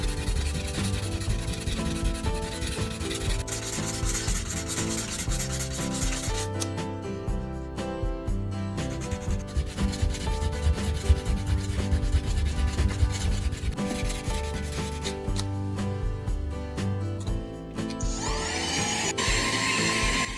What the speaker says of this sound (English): Sand the surface flat and clean away the dust.